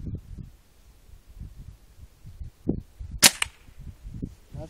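An AR 600 air rifle fires outdoors at targets, one sharp, loud crack standing out against a soft low rumble of background noise and small thumps.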